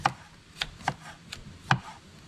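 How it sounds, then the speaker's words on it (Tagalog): A knife slices thinly through banana blossom at home for lumpia: five crisp, separate cuts at an uneven pace, close and fairly quiet. "Atin na pong hinihiwa rin ating kinuwang puso po."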